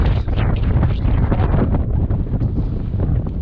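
Strong outdoor wind buffets the microphone on a high dirt-road viewpoint, a loud, dense, continuous roar with gusty swells.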